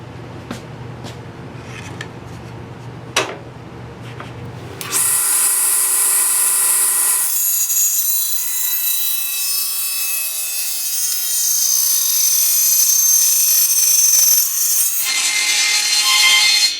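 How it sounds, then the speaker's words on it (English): A power tool cuts deep into a wooden board, first a low rubbing drone, then a loud, steady high-pitched whine of the blade biting through wood that continues to the end. "when cutting that deep into a board"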